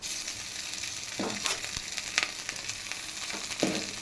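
Rice being stirred into carrot and beetroot frying in a pan, a steady close sizzle with a few scraping stir strokes, no voices.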